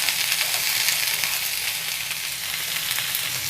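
Mixed vegetables fry lightly in a pan, a dense, steady, fairly loud crackling sizzle that holds unbroken at close range.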